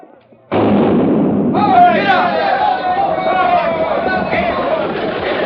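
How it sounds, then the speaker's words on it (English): A sudden loud cannon blast starting a chuckwagon race opens into a sustained roar of noise, with excited shouting voices rising over it. "They're ready to fire the cannon."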